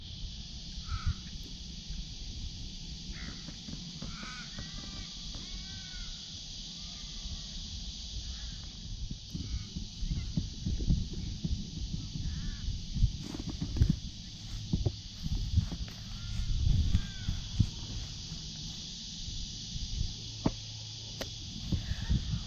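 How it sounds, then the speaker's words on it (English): Sulphur-crested cockatoos give harsh, raspy squawks at a distance by a lagoon in Sydney, scattered calls over a soft steady outdoor hiss. "there's some sulphur-crested cockatoos over there"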